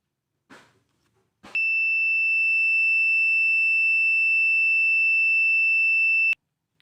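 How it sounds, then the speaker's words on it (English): Buzzer on an IR remote-controlled lights and motor project sounding once as a loud, steady electronic tone that holds for about five seconds and cuts off abruptly, after a brief click. "When all these lights and motors are on, then we will get a buzzer sound with heavy power consumption."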